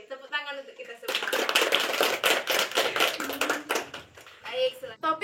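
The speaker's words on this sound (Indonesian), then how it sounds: "Tepuk tangan untuk kita semua." A group bursts into rapid, dense applause for about three seconds, with a voice speaking just before and just after.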